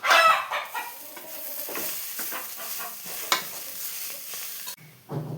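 Ground coconut paste is stirred into a moringa leaf thoran in a pan, giving a steady scraping and stirring sound over soft sizzling, with birds clucking faintly nearby and a louder thump near the end.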